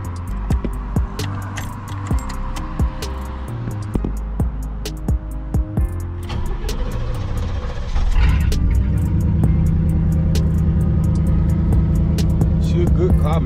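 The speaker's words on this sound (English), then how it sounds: "But I'm still finna crank that thing up for y'all." A Chevrolet C10 engine cranks and catches after a stretch of clicks and clatter, then settles into a steady, loud idle rumble that runs to the end of the clip.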